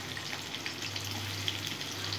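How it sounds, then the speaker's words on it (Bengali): Two large chopped onions frying in oil give off a steady, even sizzle with soft crackles throughout, close and continuous, with no voices. "ভালো করে পেঁয়াজটা ভেজে নেব।"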